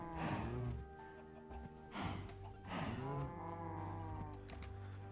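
Minecraft cows moo in the blocky video game, three drawn-out, clear lowing calls in close succession with brief gaps, and no talk over them.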